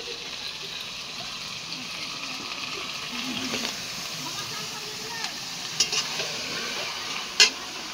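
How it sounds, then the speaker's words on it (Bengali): Goat meat trimmings being stirred with spices and tomato in a pan: a steady frying sizzle continues throughout with soft scraping stirs, and a couple of sharp clinks come near the end. "ভালো মতো নেড়ে নিবে"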